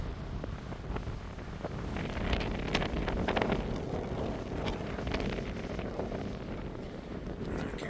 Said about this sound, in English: It's windy as hell there.